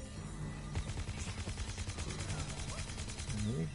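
Rapid gunfire in Plants vs. Zombies Garden Warfare 2 on PS4, a steady stream of repeated shots over busy game sounds, with faint game voices and a brief rising tone near the end.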